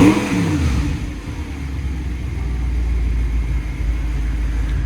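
A steady, throaty exhaust drone from an Audi R8 fitted with an axle-back exhaust, a low rumble that opens with a short rev then holds close and moderately loud, with no talking.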